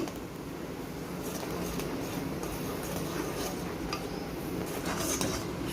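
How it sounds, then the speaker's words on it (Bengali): Semolina is stirred little by little into hot milk in a pan, a continuous low, muffled scraping and swishing with faint clinks of the spoon against metal, close and steady, no speech. "আমি এখন এই যে সুজি অল্প অল্প দেব আর এভাবে নাড়তে থাকব"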